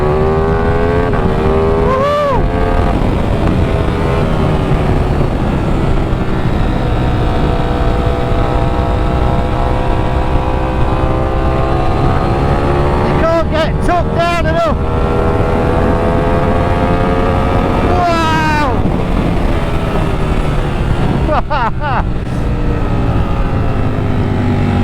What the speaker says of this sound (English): when you get the opportunity to open this thing up,